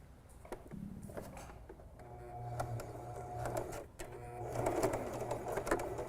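A sewing machine runs steadily, stitching through a stack of fabric pieces for a small mouse ornament without pins, with a soft mechanical hum and faint rattling close by.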